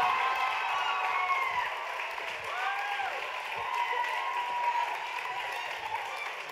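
A gala crowd at a national dance competition applauds and cheers a 15-year-old winner, a steady, moderately distant roar of clapping with a few whoops and a voice carrying over it.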